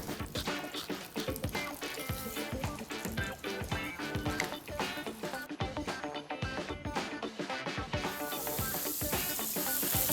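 Peeled pearl onions browning in butter in a frying pan give off a steady, lively sizzle full of crackles and pops, moderately loud and close, with no voices.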